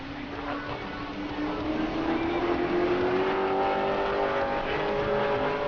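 Pro Late Model race car running a qualifying lap at New Smyrna, engine droning and rising in pitch as it comes off turn four, steady and fairly close, with commentators talking over it.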